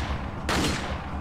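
A loud, sudden blast from the riot gun in Resident Evil 4 cuts in midway over a low game background, leaving a broad roar that lingers to the end.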